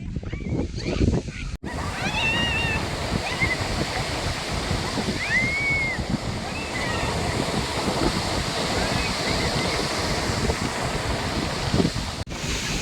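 Sea waves at Besant Nagar Beach make a steady, unbroken wash of surf, with wind buffeting the microphone and a few faint high chirps above it.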